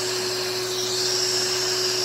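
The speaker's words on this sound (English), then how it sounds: "Now if I use these clippers on you, it's vacuum." Vacuum hair clippers run at a steady pitch, a continuous whirring hum with a sustained airy suction hiss, close and loud with no speech.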